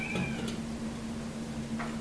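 A cat meows outside wanting to come in, two or three short, faint calls over a steady electrical hum in a garage workspace.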